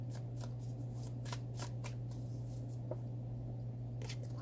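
Tarot cards being shuffled in a series of soft, papery riffling bursts, close and fairly quiet over a steady low hum.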